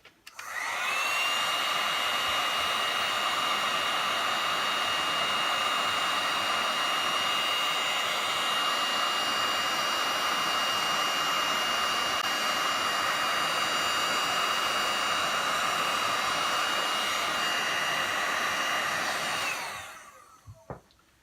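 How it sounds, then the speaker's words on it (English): A heat gun melts embossing powder on a card, blowing a steady, loud whooshing roar for about twenty seconds before cutting off, with no talking. "Once it's begun to melt, I'll then finish it off by heating from the top."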